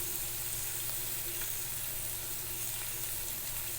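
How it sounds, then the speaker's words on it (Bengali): Dalia vegetable frying in a pan sizzles steadily and evenly, a close, continuous hiss with faint crackles and no speech over it. "এখানে ডালিয়ার সবজিটা ভেজে নিচ্ছি"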